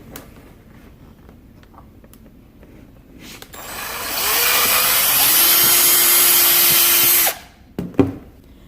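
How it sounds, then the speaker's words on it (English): Power drill boring holes through a cracked plastic RC car body, a steady close high-pitched whine lasting about three seconds, followed by a few brief clunks. "you're going to drill holes in the body where you want the zip tie to go"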